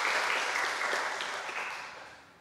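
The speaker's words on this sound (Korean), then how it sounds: "난 박수치라고는 안 했어요." Applause from a large church congregation during a service, dense and steady at first, then gradually fading out over a couple of seconds.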